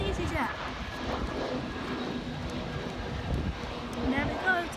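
An EasyJet airliner comes in to land at Puerto del Carmen, its engine roar a steady broad rumble throughout, with excited voices talking over it.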